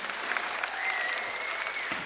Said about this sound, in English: will you please extend another roaring round of applause for our filmmakers